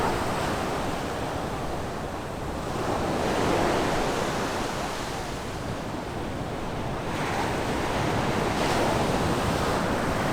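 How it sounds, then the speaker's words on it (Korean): Powerful ocean surf roars continuously at Gangneung, South Korea, with high waves swelling and crashing in broad surges, mixed with wind buffeting the microphone. "파도가 엄청 세다"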